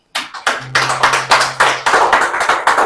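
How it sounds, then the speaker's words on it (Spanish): A church congregation at a Sunday service claps together in a steady, rhythmic beat, loud and close, with a sustained low tone droning beneath the first half. "Dele un aplauso al Señor."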